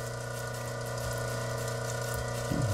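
Water runs steadily onto a lapidary grinding wheel over a steady motor hum, a continuous close wash with a small change in tone near the end.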